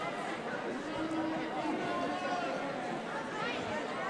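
Steady crowd chatter fills a high school basketball gym before a boys' game, a dense murmur of many overlapping voices at moderate distance with no single voice standing out.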